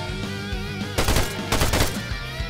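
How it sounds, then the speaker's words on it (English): A machine gun in Arma 3 fires two dense bursts of rapid shots over a droning background, each burst lasting about half a second, with no talk over the firing. "Machine gunner going to shoot through the thingy"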